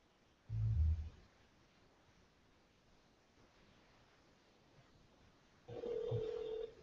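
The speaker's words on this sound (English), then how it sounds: "I'm going to call Bob, and hopefully he has his phone downstairs." A phone call placed on speakerphone: a brief low thump near the start, then a steady tonal ring or dial signal rising near the end, moderately loud over quiet room hiss with no talk.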